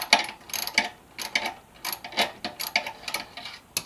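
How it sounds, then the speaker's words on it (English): An 8mm socket and wrench work a bolt loose on an MV Agusta F3 motorcycle, giving quiet irregular ratcheting clicks and small metallic ticks at close range, with no talk. "I grabbed an 8mm wrench, guys, to put on the back, and I have an 8mm socket here"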